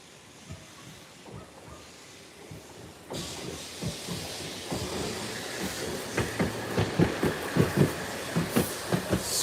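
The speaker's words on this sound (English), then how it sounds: "Super cool. Brand new tram." A brand-new KTM tram built at the Ust-Katav car-building plant runs along its rails, its rumble and hiss swelling as it nears, with rhythmic wheel clacks growing louder and closer toward the end.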